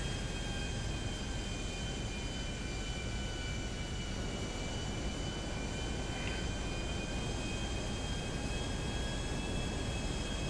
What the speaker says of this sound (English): I'm a jet, like an airliner.